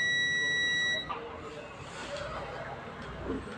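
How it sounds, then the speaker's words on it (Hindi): Multimeter continuity beep from its two probes shorted together, a steady electronic tone for about a second, close, then cut off, leaving a low hiss and faint background noise. "दोनों पॉइंट को ऐसे करके और आपस में शॉर्ट कर देना है बीप साउंड को, मतलब जैसे बीप करता है ऐसे शॉर्ट कर देना है"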